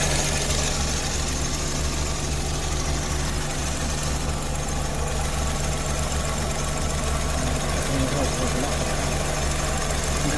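A car engine idles steadily while its cooling system is bled of air after a thermostat replacement, a continuous low mechanical hum with a faint knock-like texture, close and constant throughout.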